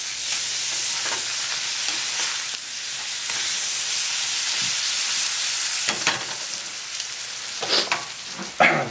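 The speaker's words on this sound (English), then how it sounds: "They're searing away nicely, and you've got some good color on there." English muffins sear in a pan for eggs Benedict with a continuous moderate sizzle and crackle, broken by a few sharp clicks and scrapes near the end, and no talking.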